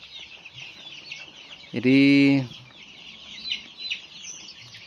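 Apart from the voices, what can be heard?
chickens clucking on a chicken farm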